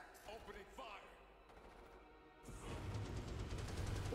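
Rapid automatic gunfire from infantry in the Starship Troopers: Terran Command strategy game starts after a quieter stretch and rattles on steadily and fairly loud, with a voice heard earlier.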